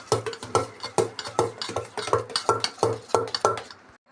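A spoon stirring kesari bath in a pan after cardamom powder goes in, giving a quick, regular run of scraping, clinking strokes, about four a second, close and fairly loud.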